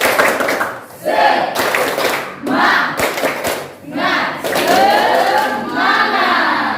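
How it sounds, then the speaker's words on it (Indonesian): A school classroom of students claps hands for their classmates in loud rhythmic bursts separated by short pauses, with shouts and voices mixed into the clapping. "Tepuk tangan buat teman-teman"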